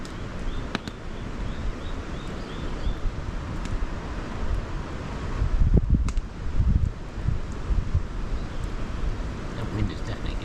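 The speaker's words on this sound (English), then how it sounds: "The wind is definitely getting up." Wind gusts and buffets around an outdoor campfire, giving a continuous rough rush with rustling and a louder surge partway through. A person talks at times over it.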